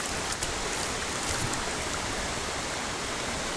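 Cold water pouring at Tat Yuang waterfall, a dense, steady rushing roar close by with splashing texture, continuous and unbroken throughout.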